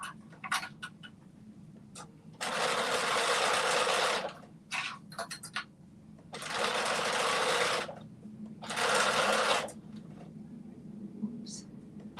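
A sewing machine stitches pleats in three bursts of steady whirring, a few seconds each, separated by quiet pauses with small handling noises.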